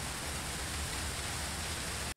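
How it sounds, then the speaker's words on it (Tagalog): Dense, steady hiss of heavy rain pouring down, loud and unbroken, then cutting off abruptly at the end. "Lakas ng ulan."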